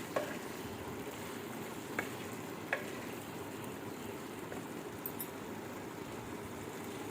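Eggs are stirred into sizzling masala in a pan for egg biryani, giving a faint, continuous frying hiss broken by a few soft clinks of a spoon against the pan.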